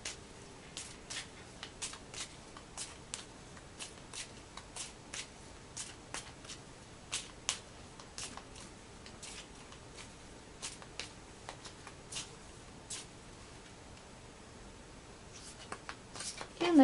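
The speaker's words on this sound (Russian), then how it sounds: "теперь тасуем оставшиеся в колоде карты" Deck of playing cards being shuffled by hand, a quiet series of crisp riffling snaps repeating roughly every half second, close and soft with no talk.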